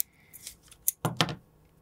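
Scissors snipping hide while tying a floating squid fly, a couple of short crisp close cuts among faint handling rustles, quiet otherwise.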